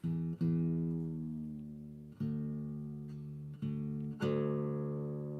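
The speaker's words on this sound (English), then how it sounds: "drop this top string down a tone so it becomes a D" A single guitar note on the top string, tuned down a tone to D, plucked four times, each ringing and fading slowly, played alone and close, quiet with a steady sustained tone.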